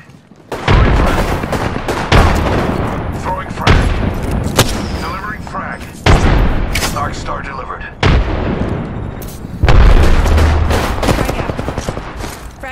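Grenade blasts and gunfire from the video game Apex Legends: a series of loud, close booms and cracking shots roughly every one to two seconds, with heavy low rumble after each, mixed with weapon noise and game effects.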